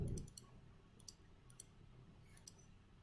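Calculator keys tapped in a quiet room, a handful of faint, sharp plastic clicks spaced irregularly over a low hum while data is entered.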